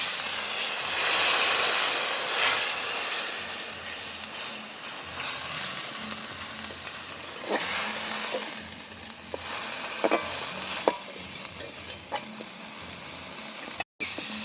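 Ground tomato goes into a pan of frying ginger, garlic, onion and spices for a ridge gourd chicken curry, setting off a loud, hissing sizzle that gradually settles, broken by scattered stirring clicks and scrapes.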